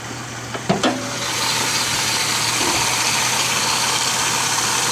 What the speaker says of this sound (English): this is what this engine looks like when it's actually running in this car